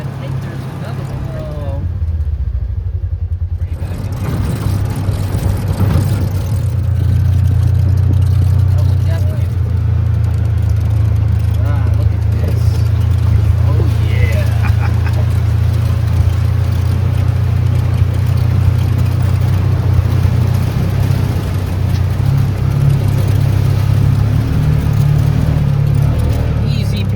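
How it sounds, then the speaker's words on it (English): Steady, loud rumble of vehicle engines on a road near a trailhead, a continuous low drone that swells as traffic passes close by. "we saw some crazy vehicles coming down"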